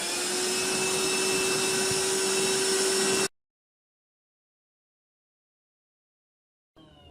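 A handheld vacuum cleaner sucks debris off a couch, giving a steady, close, high whine with a bright tonal hum for about three seconds before cutting off into silence, then restarting briefly at the end.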